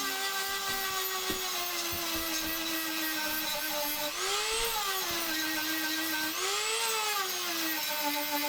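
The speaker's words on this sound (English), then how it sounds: "They're great, those little old sandpaper wheels." A small sandpaper wheel grinding a cast knife made from scrapped washing machine metal, a steady high-pitched whine whose pitch dips and rises as pressure on the blade changes, close up and with no talk.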